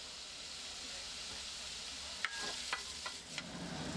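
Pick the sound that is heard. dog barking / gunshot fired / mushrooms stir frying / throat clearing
mushrooms stir frying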